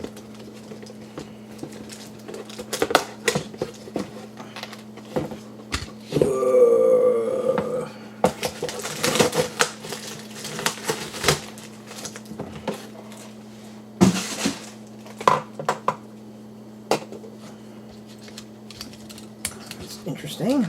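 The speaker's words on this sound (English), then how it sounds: "Let's get it undone from its packaging." Plastic and cardboard packaging crinkles, rips and clicks as a Transformers Studio Series 86 Commander Ultra Magnus toy is freed from its box. The handling noises come in close, irregular bursts with a steady low hum underneath, and a voice speaks briefly.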